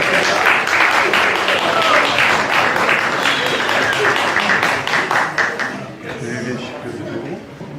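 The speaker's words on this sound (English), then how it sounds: "Round of applause." An audience applauding at a hackathon's final-day event in Zurich: a dense, sustained burst of many hands clapping with crowd voices mixed in, loud at first and tapering off toward the end.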